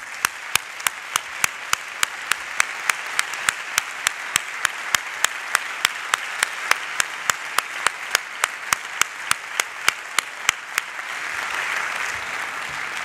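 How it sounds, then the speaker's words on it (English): An audience claps in a steady, even rhythm of sharp, evenly spaced hand claps, then breaks into a fuller, looser wash of applause near the end. "I think we can do a better round of applause than what I just heard."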